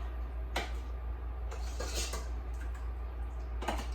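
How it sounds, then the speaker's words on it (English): A slotted spoon scooping cooked hot peppers out of a pot for homemade hot sauce makes a few soft metallic clinks and scrapes spread over a few seconds. The sounds are fairly faint and sit over a steady low hum, with no talking. "I'm gonna scoop some of these out with a slotted spoon"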